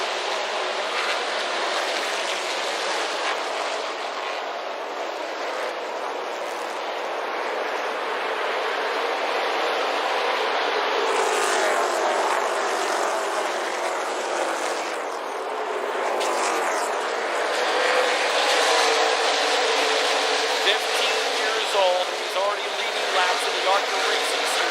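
ARCA stock cars racing at Nashville in the 2018 Music City 200: a sustained, loud engine roar that swells and fades as the cars pass, with an announcer talking over it.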